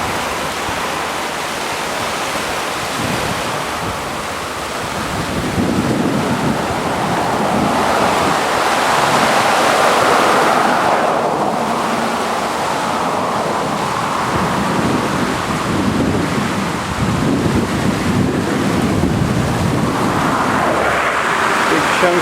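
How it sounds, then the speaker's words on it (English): The flooded Yakima River rushes past, a loud, steady broadband roar of churning water that swells and eases slightly over about twenty seconds, heard up close without speech. "The river's really swollen and they say it's going to get worse."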